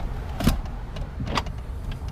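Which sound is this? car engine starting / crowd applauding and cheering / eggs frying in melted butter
car engine starting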